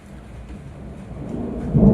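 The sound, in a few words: loud thunder during a storm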